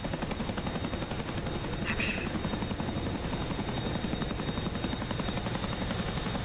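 A Chinook twin-rotor helicopter flies nearby, its rotor thump a loud, steady, dense pulsing that fills the whole stretch with little change in level.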